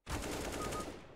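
A burst of MP9 submachine gun fire in the game CS:GO, a rapid rattle of shots that lasts about a second. The shots are fairly faint and sound as if they come from some distance away.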